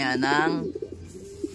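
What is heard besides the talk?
racing pigeons cooing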